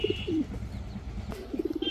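Giribaz pigeons coo in short repeated bursts, one phrase near the start and a run of soft, rhythmic coos at the end, with faint chirps between.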